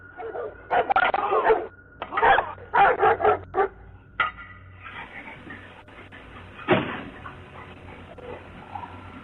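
A pack of dogs barks on a doorbell camera, several loud close bursts of barking in quick clusters over the first few seconds, then quieter yips and a whimper as the noise fades out.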